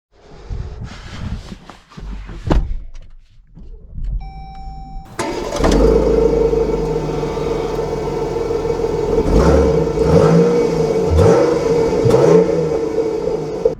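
A 2023 Jeep Grand Cherokee L Summit starts up near the five-second mark after quiet cabin movements, then settles into a steady, loud engine hum as the SUV pulls away and drives, with revs rising and falling.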